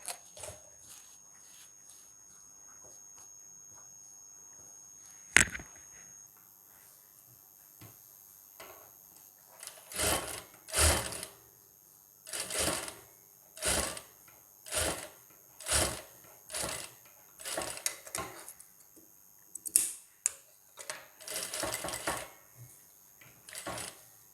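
A sewing machine stitches a designer blouse. After a quiet stretch and a single sharp click, it runs in about a dozen short, evenly spaced whirring bursts, close and fairly loud.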